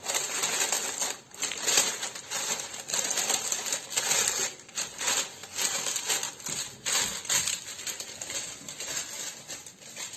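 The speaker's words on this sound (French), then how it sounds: "Je viens y mettre mon papier sulfurisé." Parchment paper handled and pressed into a Dutch oven with a little water in the bottom while making pot bread, a close, steady crinkling and rustling with quick crackles throughout, no speech.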